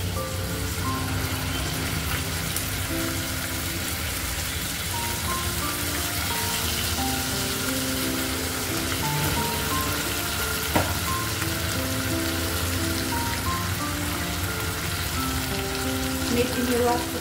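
Onion and tomato paste frying in oil for a drumstick curry gives a steady, dense sizzle with crackling that holds an even, fairly loud level throughout, with no pauses.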